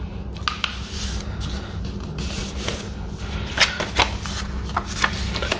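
A sheet of paper is being creased and folded into a paper airplane: soft rustling throughout, punctuated by several crisp sliding creases and taps, close and quiet, with no talking.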